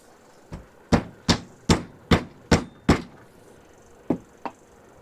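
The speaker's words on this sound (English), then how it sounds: "I'm gonna grab a rubber mallet" Rubber mallet tapping on a Ruger 10/22 rifle during a stock swap: eight sharp, close knocks, a quick run of six spaced evenly about every 0.4 seconds, then a pause and two lighter taps.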